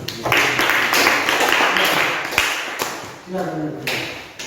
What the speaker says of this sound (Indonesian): Sekali lagi kita tepuk tangan dulu untuk kelompok 1.